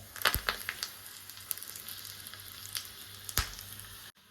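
Mustard seeds and a dried red chili cut into three pieces fry in hot oil, giving a quiet, steady sizzle broken by sharp, scattered pops and crackles.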